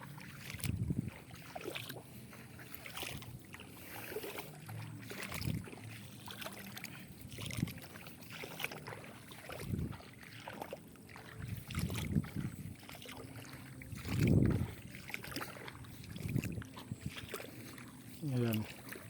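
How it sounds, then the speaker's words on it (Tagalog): Strong irrigation water flowing through a field of about one and a half hectares, a soft continuous rush heard faintly beneath intermittent talking. "Malakas yung tubig oh."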